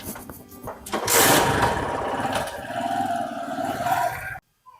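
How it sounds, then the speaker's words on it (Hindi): A motorcycle engine runs up close. It surges loudly after a quieter start, holds a steady rough drone, then cuts off abruptly. "देख लो रे, मोटरसाइकिल पे घूम रही बिरजू की छोरी"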